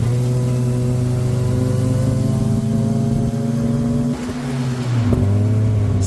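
An old tuk-tuk engine drones steadily while riding through Bangkok, a loud, close, continuous mid-pitched motor hum that dips and shifts briefly near the end as it changes speed.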